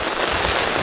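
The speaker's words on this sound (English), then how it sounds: "And this rain, it's just relentless." Heavy rain pours relentlessly on a winter campsite during a storm, a dense, loud, unbroken patter filling a brief moment with no voices.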